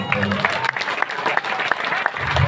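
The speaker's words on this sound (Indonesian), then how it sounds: "tepuk tangan untuk kita semua" Audience at a Balinese comedy performance at a temple ceremony applauding, a steady, close burst of many hands clapping with a voice faintly underneath.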